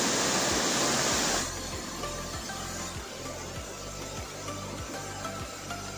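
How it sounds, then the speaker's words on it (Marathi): Rautwadi waterfall pouring in the rain: a loud, steady roar of rushing water with a brighter burst in the first seconds, then a dense, unbroken wash. "पाण्याचा सुंदर असा आवाज तुम्ही ऐकू शकता।"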